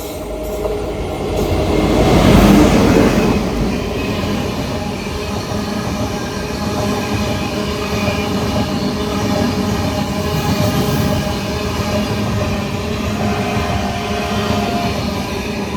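The Venad Express passenger train rolls into Chowara railway station, a loud steady rumble of rail wagons with squealing wheels and rhythmic clickety-clack, heard close from the platform, with no voices.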